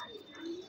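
A soft pigeon coo, low and rounded, heard close against a quiet room with a faint high whine in the background, from a Madrasi breed pigeon.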